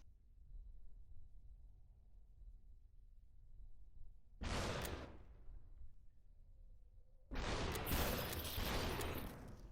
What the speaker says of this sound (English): This is just me mainly firing blindly.